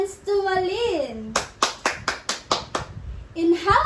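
Children in a sixth-grade classroom clap their hands together, a run of about seven sharp rhythmic claps, with a teacher's voice speaking just before and after.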